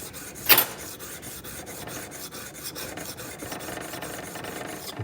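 A steel woodworking chisel rubbed back and forth on a sharpening stone, a steady rhythmic rasping scrape repeated many times, close up, with one louder scrape near the start.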